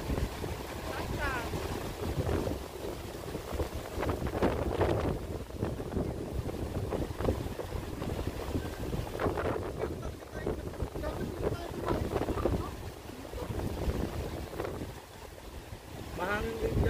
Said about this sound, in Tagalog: Mahangin din dyan.